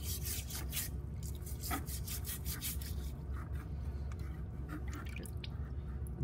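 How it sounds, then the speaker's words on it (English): A nylon brush scrubs plaster debris from a casting flask submerged in water, giving a rapid series of wet swishing, rubbing strokes with bubbling and dripping throughout. "use that same nylon brush while it's submerged to clean off any of the excess debris, all that plaster that's in there"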